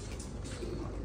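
Pigeons cooing in a loft among several domestic pigeons, low throaty coos repeating over a steady noisy background, close and moderately loud, no voices.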